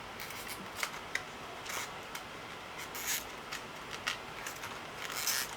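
Ipsy makeup packaging for a matte blush and bronzer is torn open at close range: a sequence of short, crisp ripping and crinkling bursts, fairly quiet, with no voices.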